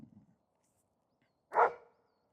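A dog out in a forest lets out a faint low whimper, then a single loud, close bark after a pause.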